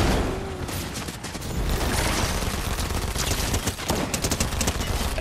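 Dense rapid gunfire in the video game Fortnite, a loud continuous barrage of overlapping shots and bursts filling the whole stretch.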